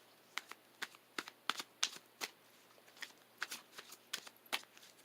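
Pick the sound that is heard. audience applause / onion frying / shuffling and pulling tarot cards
shuffling and pulling tarot cards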